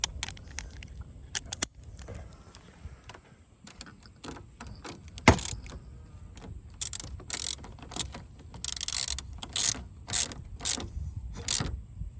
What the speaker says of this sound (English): let me get my 10mm. Tighten down this battery.